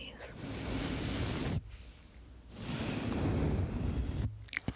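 A dense paddle foundation brush is swept across a Blue Yeti microphone, making two long, loud, breathy swishes close up with a short pause between them and scratchy rustles at the end.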